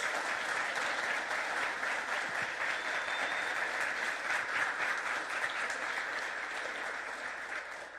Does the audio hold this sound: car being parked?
no